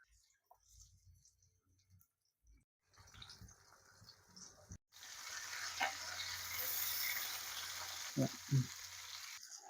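Lake fish frying in a hot pan, the oil sizzling loudly and steadily after a quieter start, with occasional clatters and scrapes from stirring close by.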